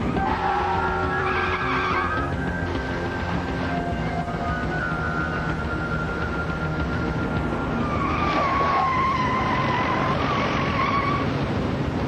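Tires skid and squeal steadily on a highway as a drunk-seeming car weaves erratically, a continuous loud road roar with no talking.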